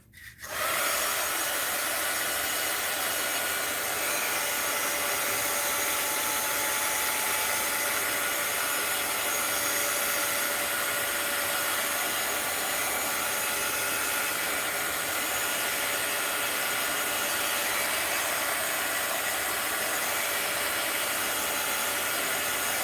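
A hair dryer blows steadily and loudly on an art journal page, starting abruptly and running as a continuous broadband roar with no pauses and no talk.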